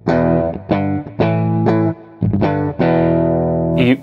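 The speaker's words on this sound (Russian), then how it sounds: "Еще один чистый звук." An electric guitar rings out in a series of sustained chords with a clean, bright tone, each strum held before the next, with no voices.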